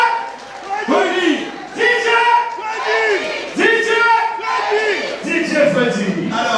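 A party crowd cheers and whoops for a DJ at a mix anniversary celebration, loud, close and sustained in rising bursts, with voices shouting over one another.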